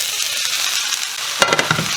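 Steady loud sizzling of vegetables frying in a hot wok, broken near the end by a few sharp clatters of stirring.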